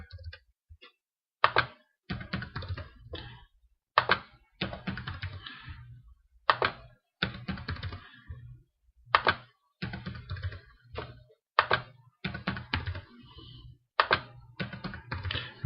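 Keys on a computer keyboard are tapped in short irregular bursts, crisp close clicks and thunks separated by pauses as values are entered, with quiet background otherwise.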